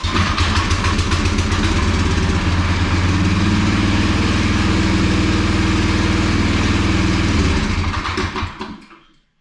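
A racer's engine idles with a loud, even rumble for several seconds, then cuts out and dies away near the end.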